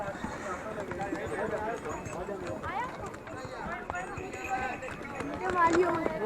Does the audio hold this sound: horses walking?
yes